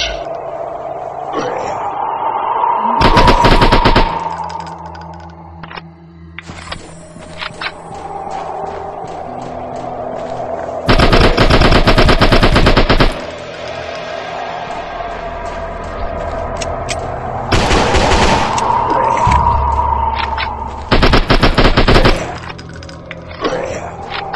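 Loud bursts of gunfire erupt in the mobile horror shooter SCP Pipe Head, arriving in four separate volleys with droning in-game ambience and tones between them.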